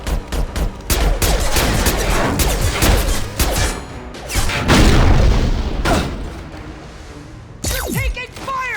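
A Mass Effect 2 firefight against Eclipse mercenaries erupts with loud, dense volleys of gunfire and heavy booms that continue almost without pause, ending in a few sharp ricochet-like whines.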